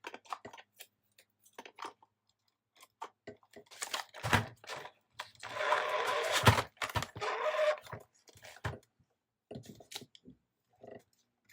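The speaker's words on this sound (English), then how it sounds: "I'm just going to run it through my Xyron sticker maker" A Xyron sticker maker is cranked by hand at close range, giving quiet ticking clicks that build into a denser rasping whir for about two seconds midway, then fade back to scattered clicks.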